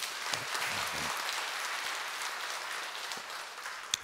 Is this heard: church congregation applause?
yes